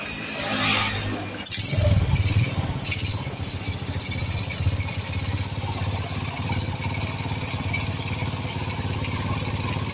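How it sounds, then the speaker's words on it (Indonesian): A smoky motorcycle engine starts with a short burst, then settles into a steady, even idle that stays close and fairly loud throughout. "di sini akan saya coba hidupkan ya motornya"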